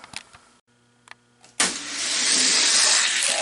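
Toy Hot Wheels cars, a convertible Mustang against a Ferrari Italia, on a downhill drag track: faint clicks, then a sudden onset of steady, rushing rolling noise that builds and holds to the end.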